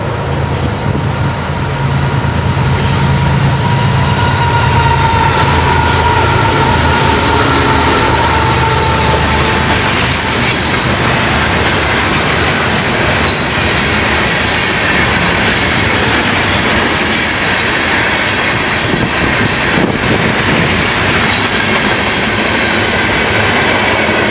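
A Florida East Coast Railway freight train led by two ES44 locomotives rolls past beside a canal bridge, loud and continuous, with a heavy rumble, clattering wheels and faint squeals throughout.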